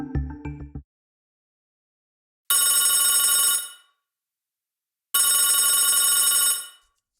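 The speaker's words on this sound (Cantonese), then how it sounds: "大嘴鴨哥哥又收到陌生電話" A telephone rings in two long, bright electronic bursts separated by silence, after a short, unrelated musical phrase at the start.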